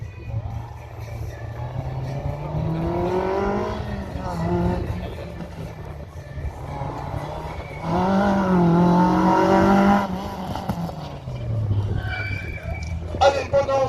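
A race car at the 2025 Agon slalom revs hard through repeated rising and falling engine sweeps, swelling loudest near the end, while a commentator talks over it.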